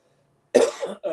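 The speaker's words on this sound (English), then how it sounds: "Hold on, I got a cough." A man coughs sharply at close range, one hard burst followed by a second shorter cough, with no talk over it.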